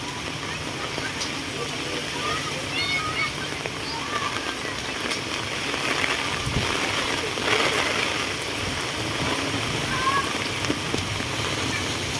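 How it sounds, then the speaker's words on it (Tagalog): Steady heavy rain from Typhoon Carina pours down in a dense, continuous hiss, with a constant wash of noise throughout and faint voices briefly underneath. "Damagang pag-ulan"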